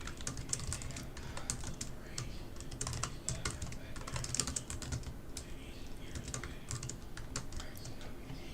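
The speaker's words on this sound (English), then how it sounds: "Typing again." Rapid, continuous clicking of keys on a computer keyboard, close and steady over a faint room hum, with no talking.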